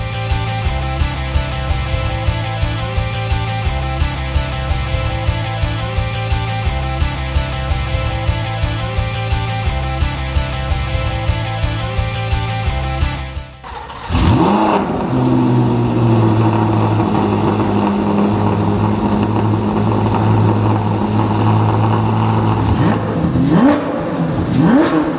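Loud, rapid pulsing exhaust from a Chevrolet Corvette C8 Z06 with Corsa exhaust and American Racing headers runs on a dyno, then cuts abruptly and turns to a smoother, rising roar.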